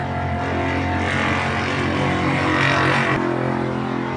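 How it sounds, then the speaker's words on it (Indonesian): A loud motorcycle engine drones steadily nearby, its pitch wavering as it revs, with a brief shift in tone near the end. "Ribut kali suara motor sahabat."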